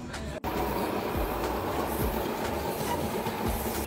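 A passenger train rolls from Kinshasa toward Kongo-Central, its wheels clattering in a steady clickety-clack rhythm with a continuous rumble heard from inside the carriage after a brief break at the start.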